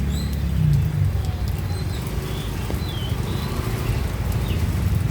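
Rain falls on a busy street in Kuta's Padma area in Bali, a dense continuous patter and hiss close around, with faint street activity mixed in.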